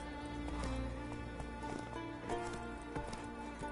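Hooves of a horse named Roach galloping in a video game, a steady drumming clip-clop under a low ambient music bed, moderately faint and continuous.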